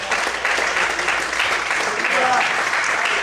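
A church congregation applauds during a Sunday morning service, a dense, steady wash of clapping that holds at the same loudness throughout, with faint voices mixed in underneath.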